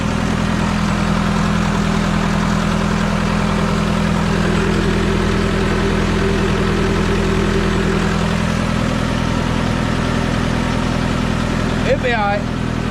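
An Allis-Chalmers B tractor idles with its PTO running, producing a loud, steady low engine rumble that continues without a break, with a short faint squeak near the end.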